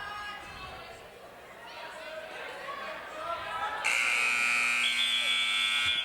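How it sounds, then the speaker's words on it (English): A loud electronic buzzer ending a high school wrestling period kicks in partway through and holds steady to the end, sounding over a murmuring crowd in a large gym. "you hear the buzzer in the background"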